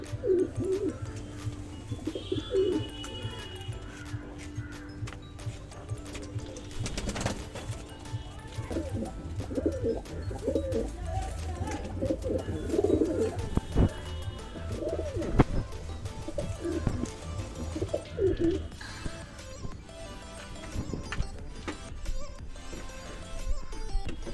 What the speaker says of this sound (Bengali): তোমাদের এখন যে পায়রাগুলো দেখাচ্ছি দেখো খুবই সুন্দর পায়রা আছে